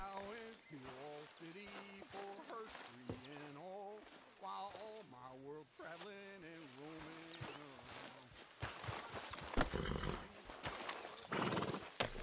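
A horse in Red Dead Redemption 2 whinnies and its hooves clop, with people talking over it; a rushing, watery noise rises toward the end.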